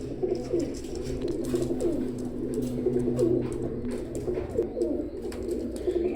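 Teddy pigeons in a loft coo continuously, low and throaty, several birds overlapping close by with a steady rolling rhythm.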